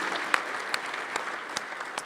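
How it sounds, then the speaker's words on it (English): Applause for honorees standing in a state House chamber, a steady room-filling clapping with a few sharper individual claps standing out. "please stand and let's give them a round of applause."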